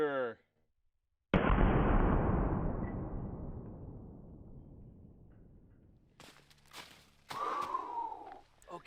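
A .50 BMG black-tip rifle round is fired in one sudden, very loud blast that booms and rolls away for several seconds, followed by faint movement and a voice.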